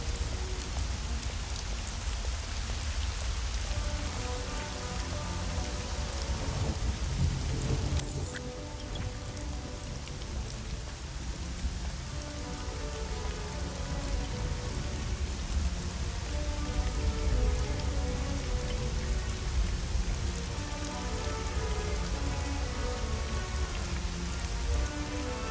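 Steady rain pattering on surfaces fills the scene in Hitman: Blood Money, a continuous dense downpour with a brief louder swell midway; low rumbling underneath hints at distant thunder.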